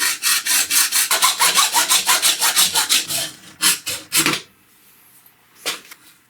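Hand saw cutting through a drain pipe for a utility sink installation, a rapid rhythmic rasp of about twenty close, loud strokes that slow to a few final pulls and then stop.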